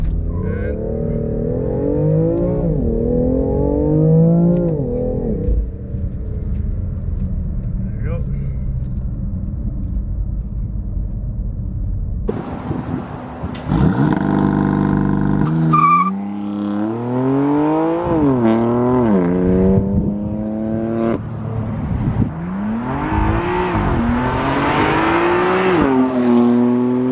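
A BMW M3 F80 launches hard using launch control, its engine rumbling at a held idle before surging into loud, rising revs through several upshifts, each climb broken by a brief dip, close and continuous with no talking.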